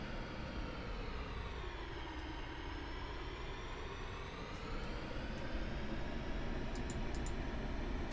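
A military jet rolls along the ground while taxiing in DCS World. Its engine gives off a steady, sustained roar and whine, with the pitch drifting slightly as it moves, plus a few faint clicks near the end.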